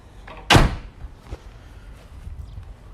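A Nissan Navara 2.3 dCi pickup door swung shut once with a single sharp, close slam, followed by faint handling noises and quiet background.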